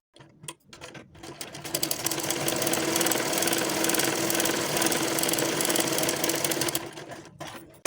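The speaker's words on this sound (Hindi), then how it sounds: "पलट के इसके ऊपर से एक एक सिलाई और लगा लूँगी मैं" Electric sewing machine stitching fabric while joining a sleeve, a close, loud, rapid mechanical whir that starts in short bursts, runs steadily for about five seconds and then stops, with no talk.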